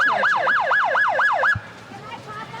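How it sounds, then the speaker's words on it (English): A police car siren at a parade wails in a fast, rising-and-falling yelp about six times, loud and close, then cuts off abruptly, leaving faint crowd and street noise. "Got the siren."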